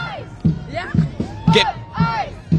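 Protest crowd in Portland chanting in a steady repeated rhythm, loud bursts roughly every half second, with shouting voices and passing cars laying on their horns in support.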